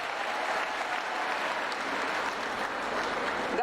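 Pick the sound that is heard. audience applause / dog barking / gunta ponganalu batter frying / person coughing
audience applause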